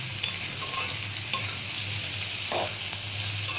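Potatoes and onions sizzle and fry in a pan for aloo posto, with steady frying hiss, a few sharp scrapes of stirring and a brief soft clatter near the middle.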